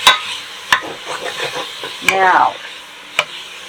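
Beef browning all at once in a pot for beef and buckwheat soup, a low sizzle with sharp spoon clanks against the pot as it is stirred, close by, while someone talks.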